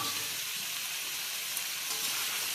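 Chopped ridge gourd, eggplant and green chilies added to a spiced pan of taro and potatoes, giving a soft, steady hiss of sizzling and frying, faint and continuous with no voices.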